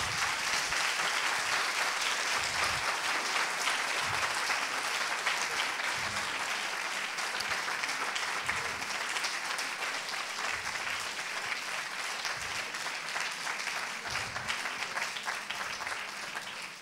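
A large evening audience at a talk on emotional disorders applauds a guest speaker, loud, dense, unbroken clapping that carries on for about seventeen seconds before starting to fade.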